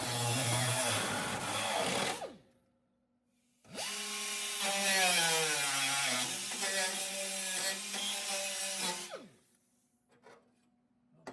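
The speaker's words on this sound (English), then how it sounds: "Gotta cut it right here. I'll get my little grinder out to do that." A small angle grinder whines in two bursts, its pitch rising and dropping as it cuts into metal on a 1972 VW Super Beetle, with a short quiet gap between them.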